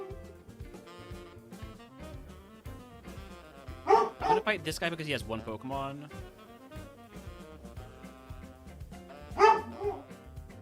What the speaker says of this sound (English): Sorry about the barking.